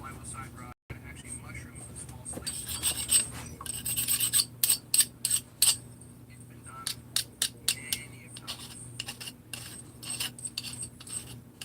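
A hand file rasps burrs off freshly milled small sleeves for a chainsaw rebuild, a run of short sharp scraping strokes in an uneven rhythm, close and fairly loud over a low background hum.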